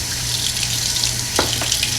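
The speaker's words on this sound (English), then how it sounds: "So what I do is I just turn my water on." Water runs steadily from a kitchen tap into a sink while a cast iron pan is being cleaned, a close, even hiss with a brief splash change near the end and no talk.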